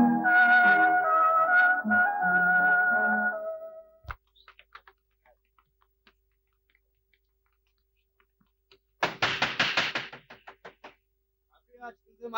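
Knocking on a door in a 1962 Turkish film, a sharp single knock followed by a quick burst of rapid raps after a pause, with voices talking before the knocks.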